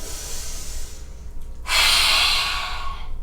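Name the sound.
lion's breath yoga exhale with tongue out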